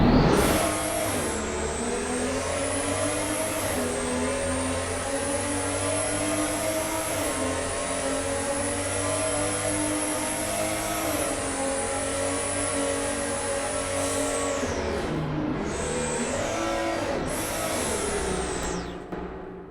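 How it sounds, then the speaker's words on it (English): A Porsche 911 flat-six engine in a video game revs hard and holds a high, raspy note, with gear changes and brief dips near the end, close and loud. "Nothing matches a 911 flat 6."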